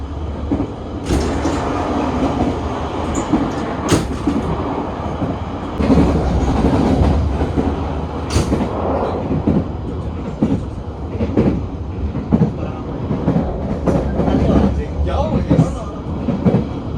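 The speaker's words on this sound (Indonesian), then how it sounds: "perjalanan kereta api Sancaka Utara telah diberangkatkan dari stasiun Surabaya Pasar Turi" Aboard the Sancaka Utara passenger train out of Surabaya Pasar Turi, a steady low rumble rolls on with periodic clacks of wheels over rail joints, heard from inside the carriage throughout.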